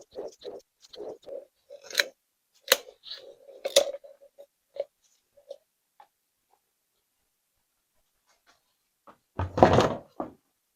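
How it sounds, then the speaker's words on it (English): An oil filter cutter works its way around a used oil filter from a 200K-mile Silverado, giving a run of scattered clicks, thunks and scraping ticks up close, then a louder burst of rough cutting near the end. "In order to cut this oil filter open, I'm going to use this awesome oil filter cutter thing"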